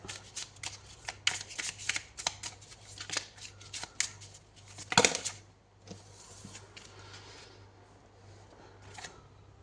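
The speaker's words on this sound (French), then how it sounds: "on prend une dernière carte pour en savoir un petit peu plus" Tarot cards riffled and drawn from a deck, with a string of quick crisp flicks and shuffles, one sharp snap near the middle, then quieter rustling handling.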